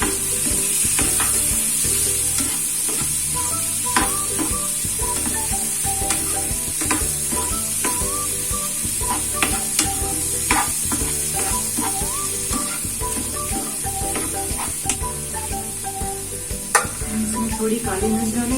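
Paneer fries in a pan, a constant close sizzle overlaid with repeated scraping stirs and light metal clicks of a spoon against the pan, with no talking.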